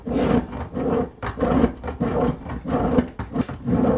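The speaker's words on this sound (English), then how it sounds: "See, that's all I'm doing is grating it like I am cheese." Bar soap is rubbed against a grater in quick repeated rasping strokes, close and rhythmic, each scrape a dry gritty rub that repeats steadily.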